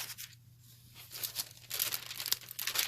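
Lightweight tissue wrapping paper rustles and crinkles while being handled up close, soft at first and then growing into louder, busier crackling bursts, with no voices.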